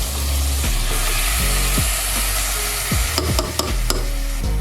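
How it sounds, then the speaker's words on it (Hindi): Half a kilo of mutton mince fries in a pan with a loud, steady sizzle, while a spoon stirs and scrapes it in repeated strokes, ending with a few sharp metal clinks. "मटन का कीमा लिया है 1/2 kg, वो ऐड कर देंगे। आप चाहें तो चिकन का भी ले सकते हैं, बीफ का भी ले सकते हैं। डालने के बाद इसे अच्छे से करेंगे मिक्स।"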